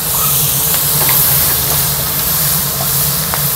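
Onion goes into a hot pan already cooking with green chili and tomato, giving a loud, continuous hissing sizzle that holds steady throughout without speech.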